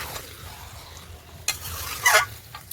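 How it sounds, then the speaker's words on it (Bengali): Chicken pieces for kosha fry in a pan, with a soft sizzle under scraping spatula strokes and one louder clatter of stirring near the end, close and moderately loud. "এই যে আমার মাংস কষানো হয়ে গেছে, দেখতে পাচ্ছ।"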